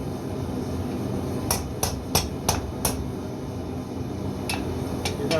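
A quick series of sharp metallic hammer strikes on hot metal while forging a tomahawk, then a pause and a few more blows, ringing over a steady roar of background noise.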